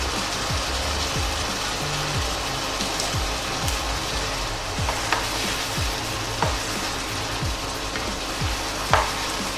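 Onion and pressed garlic cook in a pan with a continuous close sizzle, broken by a few light utensil taps and stirring scrapes, no talk.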